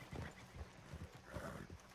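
Horse hooves clip-clop in the Red Dead Redemption 2 video game, a steady rhythmic gait of distinct, fairly quiet hoof strikes with a brief whinny-like sound midway.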